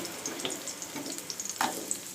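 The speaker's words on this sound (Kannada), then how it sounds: "ಎಣ್ಣೆ ಕಾದಿದೆ ಈಗ ನಾನು ಈರುಳ್ಳಿ ಸೇರಿಸ್ಕೊತೀನಿ" Onions frying in hot oil in a pan: a soft, steady sizzle with faint crackles and a few small pops and clinks, close and fairly quiet, with no talking.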